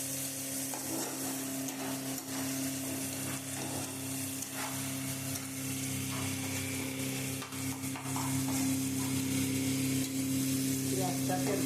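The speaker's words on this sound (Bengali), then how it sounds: "পেঁয়াজটাকে ভাজা করে নেবো আস্তে আস্তে" Salted onion frying slowly in a pan for a katla fish tel jhal, a constant close sizzle with occasional stirring scrapes over a steady low hum.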